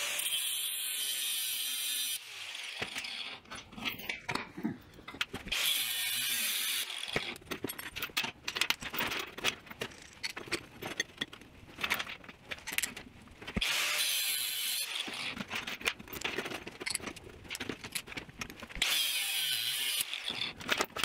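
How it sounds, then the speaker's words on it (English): Abrasive cutoff wheel slicing through steel chain to length, a loud continuous high grinding whine in several long bursts separated by brief pauses, close up with no talking. "cutting it to length with the cutoff wheel"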